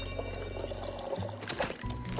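Liquid pours into a glass in Tavern Talk, a short, close, steady splashing stream that tails off with a brief clink near the end.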